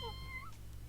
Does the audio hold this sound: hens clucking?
no